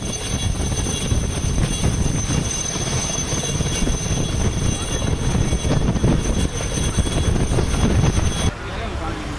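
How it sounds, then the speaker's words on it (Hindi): Military fighter jets fly low over Rajpath in Delhi during a salute flypast, a loud continuous roar that cuts off sharply near the end. "ये तीनों विमान वहां राजपथ के ऊपर से उड़ते हुए निकले हैं"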